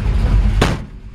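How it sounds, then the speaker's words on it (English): A 1954 Ford F-100 pickup door slams shut once, a single sharp thud partway through, cutting through the steady low hum of the idling truck. "Oops, I didn't close that door all the way."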